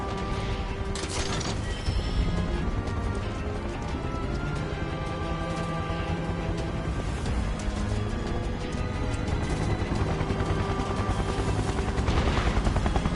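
A helicopter's rotor in Final Fantasy VII Remake drones steadily and loudly throughout, thick with mechanical whirring and clatter, layered with game sound effects and music.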